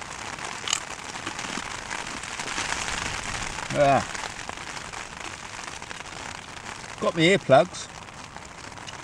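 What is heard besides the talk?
rain on a tent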